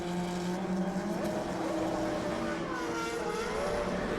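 GP2 race cars pull into the pits at a 2008 race in Spain, with a steady loud engine drone and shifting whine that runs the whole time without any talk.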